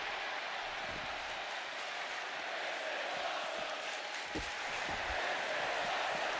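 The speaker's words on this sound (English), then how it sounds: "Crowd's already throwing out "This is awesome" chants." Arena crowd noise in the WWE 2K25 wrestling video game, a steady dense roar of cheering and rhythmic chanting that swells slightly toward the end, with a few thuds from the ring.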